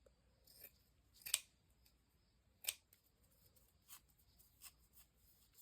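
Scissors cut fabric for a Halloween junk journal in several close, crisp snips, two sharper than the rest, with soft papery rustling between them in a quiet room.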